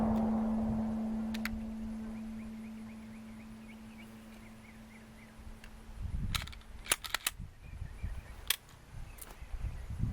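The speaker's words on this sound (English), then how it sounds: "Shooting 115 grain MagTech ammo." A Walther PPQ pistol fires 115 grain MagTech range ammo at an outdoor range, giving sharp, fairly distant cracks: a brief early pair, then a quick cluster of shots and a few spaced reports.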